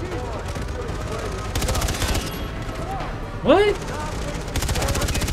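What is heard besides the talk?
gunshots shooting barrels in video game Far Cry 3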